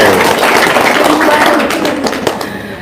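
A small gathering of people claps together in a dense, steady patter that fades slightly toward the end, with voices talking over it.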